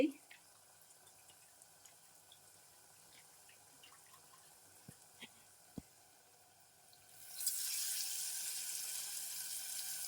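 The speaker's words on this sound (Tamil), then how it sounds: "நான் தேவையான அளவுக்கு தண்ணி விட்டுருக்கேன், புளி கரைச்சு விட்டு." Tamarind water is poured into a simmering ladies finger kara kulambu gravy. A quiet kitchen with a few faint clicks gives way to a steady, fairly loud hissing pour in the final few seconds.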